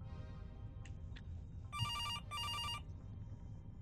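A phone rings twice in two bursts of electronic ringtone tones, standing out over a low, steady background rumble in a cramped indoor space, likely a small toilet stall.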